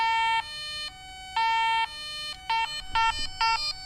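An electronic warning buzzer wired into a car as a fan reminder sounds in repeated two-tone beeps, long steady tones at first, then quicker short pulses, clear and close with no talk.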